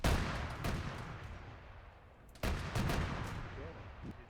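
Gunfire from a Chimera vehicle in a Siege Army Ops video game session: two loud, booming bursts of shots about two seconds apart, each fading into a rumbling tail.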